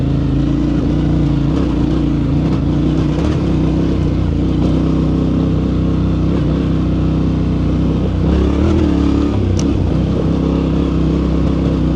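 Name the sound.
Yamaha Tenere 700 Rally motorcycle riding off-road trail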